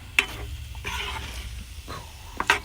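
Eggs stirred in a frying pan: a few sharp utensil scrapes and clicks against the pan over a soft sizzle, spaced irregularly across a few seconds.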